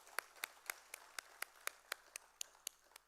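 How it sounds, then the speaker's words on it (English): Faint, evenly spaced clapping at a business knowledge summit, about a dozen crisp claps in a steady rhythm, sounding sparse and distant rather than a full crowd. "can we have a huge round of applause for Praveen sir?"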